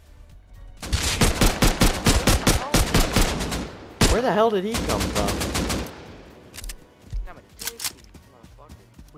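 Rapid bursts of AK rifle fire from the game Rust crackle loudly in two long strings, broken by a short pause, while someone speaks excitedly over and after the shooting.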